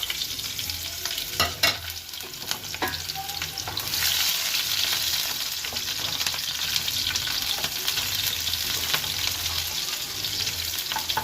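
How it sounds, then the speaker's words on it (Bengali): Garlic and panch phoron spices, fennel and black cumin, sizzle and crackle in hot oil, a steady frying hiss that swells louder midway with occasional stirring scrapes, no voices. "সব মশলাগুলো আমি তেলের মধ্যে দিয়ে দিলাম"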